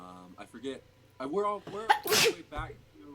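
One loud, sharp sneeze bursts out between stretches of people chatting, close to the listener.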